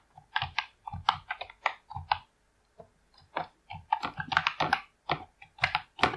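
Fingers type an email on a computer keyboard, close-up bursts of rapid key clicks in uneven runs with a short pause in the middle.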